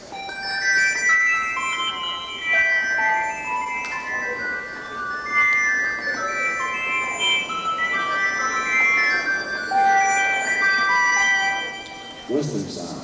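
A 1984 synthesizer imitates a music box with bright, plinking high notes in a tinkling melody, ringing clearly and fairly loud with short decays until it fades near the end.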